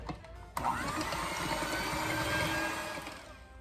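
An electric hand mixer whirs on high through a bowl of eggs with grated nutmeg, ground cinnamon and vanilla extract, kicking on abruptly and then droning steadily at a moderate level.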